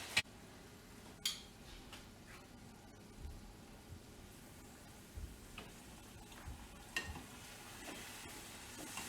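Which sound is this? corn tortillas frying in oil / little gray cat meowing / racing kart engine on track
corn tortillas frying in oil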